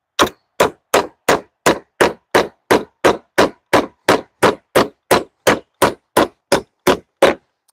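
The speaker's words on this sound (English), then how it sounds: "It is hard to drive nails through wood, as you might imagine." Nails are hammered into recycled pallet wood in a steady run of about twenty sharp, loud, evenly spaced clanging blows, close and alone.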